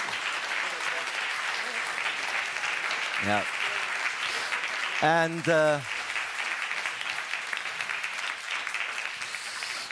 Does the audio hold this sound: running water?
no